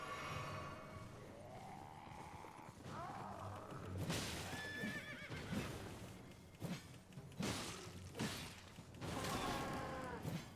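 A horse in the video game Elden Ring neighs and whinnies several times over a dense backdrop of combat noise, with thuds and whooshes between the calls, loud and close.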